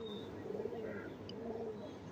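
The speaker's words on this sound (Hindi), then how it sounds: "ये देखे क्या बम्बार्ड कबूतर है यार" A pigeon coos softly in a short, low, murmuring phrase, faint against quiet background noise, with a brief chirp in between.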